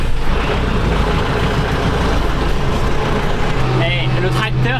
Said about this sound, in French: Le tracteur il a pas de puissance quand il est froid.